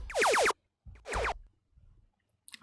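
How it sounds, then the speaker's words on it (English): A laser sound effect in an electronic dance track fires two bursts of rapid, downward-sweeping zaps, each a cluster of quick pew-like swoops, separated by brief silence. "we have some laser here because I really love laser"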